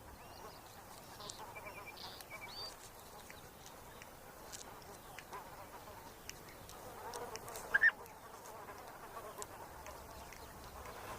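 Insects buzz faintly around tall fennel flowers in a Russian desert, a thin, steady hum with a brief louder pass near the end over an open outdoor background.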